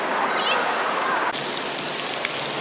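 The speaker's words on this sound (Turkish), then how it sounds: "Yağmur hala yağmaya devam ediyor." Steady rain falls in Singapore, a dense continuous hiss of drops on surfaces, close and even throughout with no break.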